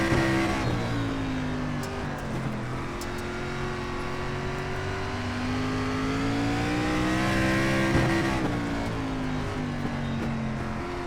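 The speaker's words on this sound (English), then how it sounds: "Four cars flying around the top side right now." Stock cars racing around the high line of an oval in the iRacing SRX Series at Cedar Lake: a continuous loud engine drone with rising and falling pitch as several cars pass, steady throughout with no talking.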